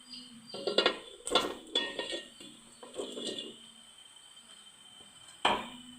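Chicken goes into a pot of ghee-fried masala for degi-style chicken korma, bringing a handful of sharp metallic clanks and clinks of spoon against pot, fairly quiet and spaced out, with a final knock.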